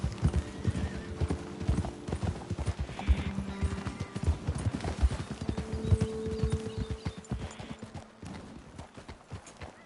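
Horses trotting in Red Dead Redemption 2 with steady rhythmic clip-clop hooves, a brief whinny, over a busy background of ambient game sounds.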